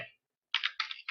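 A computer keyboard clicks under quick keystrokes as a user ID is entered at a login screen. There are a few short, crisp, close taps in a quick burst after a brief pause.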